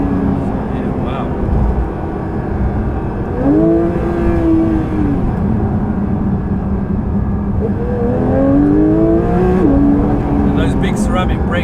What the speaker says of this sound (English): this still accelerates really good for a naturally aspirated car